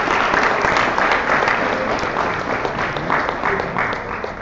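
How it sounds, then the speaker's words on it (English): A conference audience in Manchester claps together, a dense, sustained wash of applause that eases slightly toward the end. "give a round of applause for you guys for making it out"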